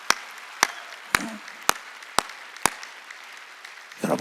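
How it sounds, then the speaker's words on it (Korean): A church congregation at a Wednesday worship service claps together in unison. Six crisp, evenly spaced claps fall about half a second apart, then a brief rustle follows at the end. "깨달아서 박수 세게 치라고."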